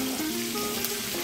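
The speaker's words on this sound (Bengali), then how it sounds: "এবার এটা ফ্রাই করবেন, গোল্ডেন ব্রাউন পর্যন্ত আপনাকে ফ্রাই করতে হবে।" Onion, garlic and ginger fry in a pan over low heat for a chicken papaya curry, giving a brief, steady soft sizzle with no talking.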